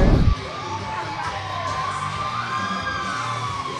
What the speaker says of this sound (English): Sounds like she's got just as big of a crowd with her as Sarah Beth Speaks does.